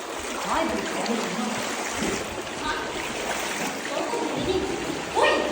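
Strong water current rushing through a stream inside Tayangban Cave in Siargao, a steady broadband wash with splashes, heard under people talking and calling out nearby.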